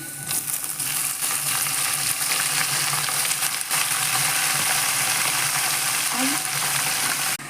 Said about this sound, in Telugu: ఇప్పుడు ఆకుకూరలు వేసుకుందాం